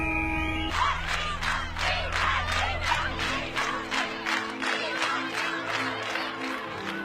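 A dense crowd roars and cheers continuously for cricket hero Imran Khan, a steady wall of massed voices with rhythmic pulses of shouting, loud and sustained throughout.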